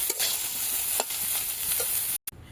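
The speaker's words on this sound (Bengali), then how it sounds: "সোয়াবিনটাও ভালো করে ভেজে নেবো এর সাথে, বেশি ভাজবো না" Soya chunks frying in a pan, a steady close sizzle with occasional stirring scrapes, running alone throughout before a brief cut.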